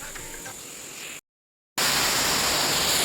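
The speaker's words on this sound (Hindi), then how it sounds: "this is आरविलम waterfall" Harvalam waterfall in Goa sends up a dense, steady roar of falling water. A quieter wash comes first, then a short silent cut, then a loud, close, unbroken rush.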